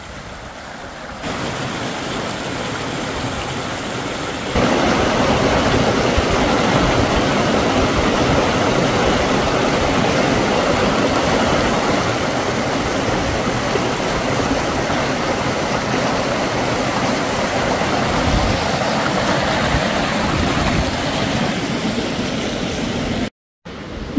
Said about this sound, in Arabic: هذا شلال إيفنفول